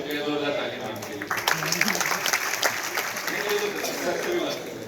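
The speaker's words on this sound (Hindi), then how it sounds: "बहुत शुक्रिया 2000 तालियां आपके लिए।" An audience at a university performance event claps in a dense, crackling wash of applause that swells and holds, with voices talking over it.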